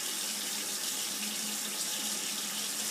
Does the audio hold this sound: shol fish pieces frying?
no